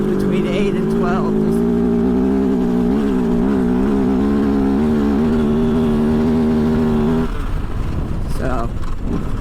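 A 2023 Kove FSE 450R Rally motorcycle's engine drones loudly at high revs while being ridden, holding a steady tone before shifting near the end, with rushing wind noise around it.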